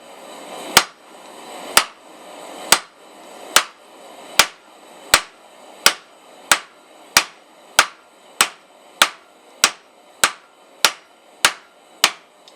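A blacksmith's hammer rings on a steel bar against an anvil while forging a leaf key chain, about seventeen sharp, loud, evenly spaced strikes that gradually quicken, each leaving a brief metallic ring.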